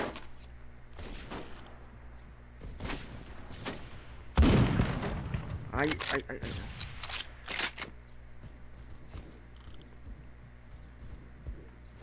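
Gunfire in the video game Roblox, a few sharp shots scattered through the clip with a dense burst of rapid shots in the middle, loud against steady game background noise.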